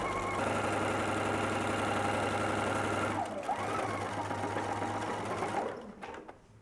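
A sewing machine runs steadily, stitching fabric with a close, even mechanical whirr and rhythmic needle chatter, then slowing and stopping near the end.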